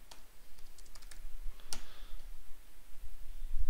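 Typing on a computer keyboard to enter text for a printer port interfacing project with an Arduino: a run of sparse, close clicking keystrokes with short pauses, one sharper clack midway, no talking.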